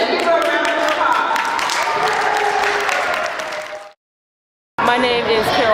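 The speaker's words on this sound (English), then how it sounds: "let's give her a round of applause" An audience at a bullying-education presentation applauds to welcome the speaker, a full, steady burst of clapping with crowd noise that cuts off into silence, then talk begins.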